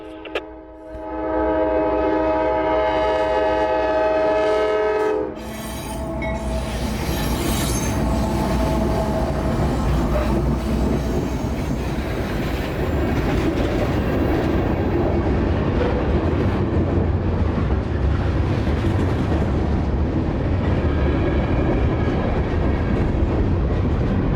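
Norfolk Southern NS 4038, a northbound freight, approaches loudly with a sustained horn blast and then rumbles past at length, its wheels squealing and wagons roaring on the rails.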